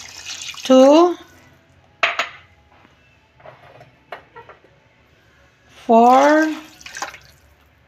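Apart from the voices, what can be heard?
hot water being poured into a rice cooker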